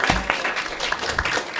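Audience applause at a town board of trustees meeting, a steady close wash of clapping from a small crowd that runs through the whole moment without speech.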